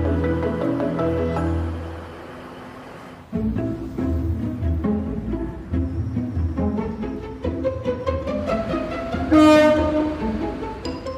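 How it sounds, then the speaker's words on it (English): TransPennine Express trains in northern England rumble and move along the tracks, with a horn blast sounding near the end over the steady rail noise. "Trains are heading out to get northerners to work."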